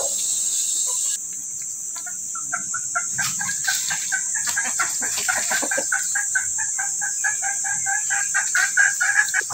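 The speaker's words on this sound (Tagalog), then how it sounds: "Nagdala ako ng 8 manok" Free-range farm chickens, including a rooster, clucking and crowing repeatedly at close range against a steady high insect hum, with no talking.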